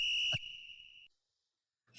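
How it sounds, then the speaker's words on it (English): A single sharp, loud whistle blast held for about a second then cut off, followed by silence and a faint burst of noise at the end. "North London whistle first."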